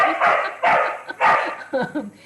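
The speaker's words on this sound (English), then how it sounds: "He's 6 months old, my puppy." A six-month-old puppy barks loudly nearby, about four sharp barks in an irregular rhythm, ending with a couple of softer yips.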